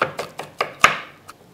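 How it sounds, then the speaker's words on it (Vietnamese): A knife chops shallots on a cutting board, with six sharp, evenly spaced taps close up, one stroke noticeably harder than the rest. "Sau đó các bạn băm lại. Chúng ta băm sơ thôi,"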